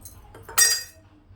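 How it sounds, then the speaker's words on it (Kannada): Cooked legumes are strained into a perforated steel vessel, one brief, bright metallic clink with a short splashy burst, close and alone. "ಇವಾಗ ಇದನ್ನು ಪಾತ್ರೆ ಸೋಸ್ಕೊಳ್ಳೋಣ"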